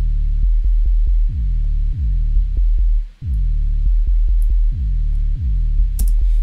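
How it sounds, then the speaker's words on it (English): A mid-range bass synth patch in Ableton plays a loud, throbbing low bassline with repeating pitched notes that slide downward, layered over a steady deep sub and punctuated by short percussive clicks. "the mid-range bass, which sounds like this."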